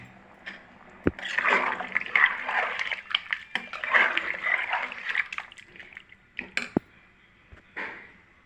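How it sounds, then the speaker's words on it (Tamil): Water poured from a tumbler into a pot of cooked mutton for biryani gives splashing, gurgling bursts with a few clinks of metal cookware, close and fairly loud, broken by short pauses. "அந்த தண்ணி 3 டம்ளர் தண்ணி நான் 2 டம்ளர் ஊற்றணும்"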